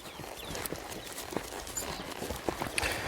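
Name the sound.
horse hooves clip-clopping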